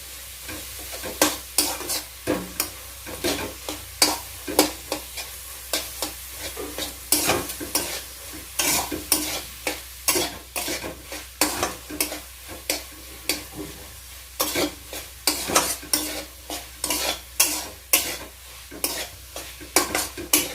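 Sarson ka saag mixed with fried gram flour is stirred in a pan, a spoon scraping in a steady, busy rhythm of close clinks and scrapes over a soft sizzle, with no talking.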